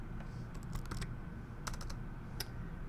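Typing on a computer keyboard while entering a spreadsheet formula, heard as quick bursts of close, crisp keystrokes separated by short pauses over a faint steady hiss, with no voices.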